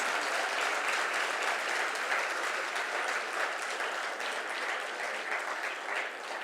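Sustained applause from an audience after a fashion show by hospital doctors, nurses and staff: dense, even clapping that fills the room from start to finish and eases slightly toward the end, with no voices over it.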